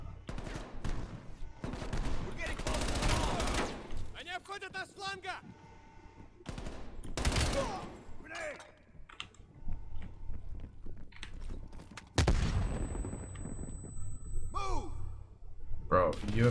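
Gunfire in the Call of Duty: Cold War campaign, played on Veteran difficulty: loud, sharp bursts of shots in clusters separated by quieter gaps, with a player's voice speaking between the shots.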